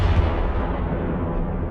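A deep, rumbling explosion boom of the red giant star Antares exploding, rolling on and slowly fading, loud and heavy in the low end.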